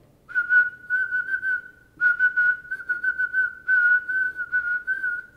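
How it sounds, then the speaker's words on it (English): A person whistles a steady tone in three separate phrases, alternating between blowing out and drawing breath in, close and clear with quiet gaps between phrases and no talk. "you can whistle blowing out and drawing in"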